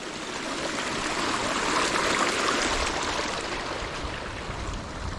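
Rain runoff water flows steadily downhill toward a large creek on a bush track after heavy rain, a continuous, fairly loud broadband rushing with no voices.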